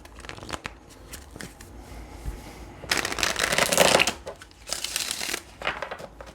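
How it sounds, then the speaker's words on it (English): Tarot cards shuffled by hand in several bursts of riffling and sliding, close and crisp, with quieter rustling between the louder passes. "let's get one more shuffle."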